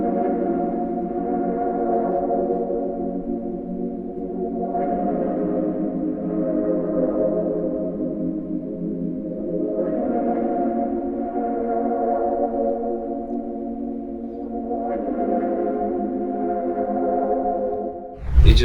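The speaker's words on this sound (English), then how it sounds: "It's this pad right here from Analog Lab 5." Synth pad preset Thoughts from Analog Lab 5 played alone, slow swelling sustained chords that rise and fade in repeating waves of about five seconds each, warm and steady.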